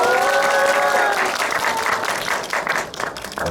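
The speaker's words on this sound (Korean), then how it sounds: "박수의 강도가 늘 듣던 강도가 아닌데" Audience applause fills a film screening with a guest talk, loud dense clapping throughout that thins slightly toward the end, with no talk over it.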